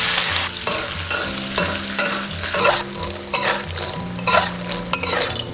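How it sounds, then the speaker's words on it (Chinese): Peanuts stir-fried slowly over low heat in cooking oil in a pan: a steady soft sizzle with repeated scraping and clinking of a utensil against the pan as the nuts are stirred. "锅中倒食用油， 下入花生米，小火慢炒"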